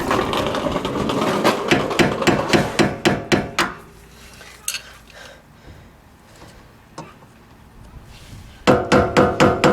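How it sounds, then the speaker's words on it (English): Rapid metallic hammer taps on a screwdriver against a 2001-2005 Honda Civic rear wheel dust cap ring out in a quick series, pause with a few scattered knocks, then resume in another fast burst of close, sharp strikes. "using a screwdriver and a hammer to break this loose."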